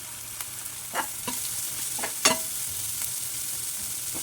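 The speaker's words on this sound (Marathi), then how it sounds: "पूर्ण एकसारखं हलवून घ्यायचं" Rice cooked with green peas, tomato, red chili powder, turmeric and cumin powder stirred in a pan, with a steady soft sizzle and a few spoon scrapes and taps against the pan.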